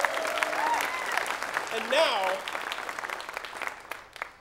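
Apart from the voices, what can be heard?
audience applause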